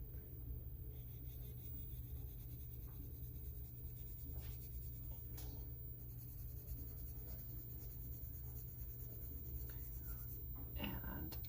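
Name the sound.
colored pencil base layering on paper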